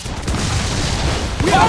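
Continuous rumbling battle noise of cannon and musket fire in Assassin's Creed IV: Freedom Cry, loud and dense with booming blasts blurred together throughout, and shouted voices mixed in.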